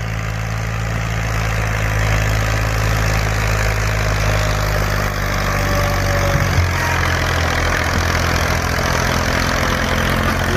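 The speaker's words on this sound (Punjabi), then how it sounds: "ਲਓ ਜੀ 16 ਫੁੱਟ ਦੀ ਟਰਾਲੀ ਅਤੇ 55 ਹਾਰਸ ਪਾਵਰ ਬੇਲਾਰੂਸ ਟਰੈਕਟਰ, ਰੂਸੀ" An old Russian Belarus 55 hp tractor pulling a loaded 16-foot trolley, heard as a deep steady engine drone near at hand that shifts slightly in pitch partway through, with no talk.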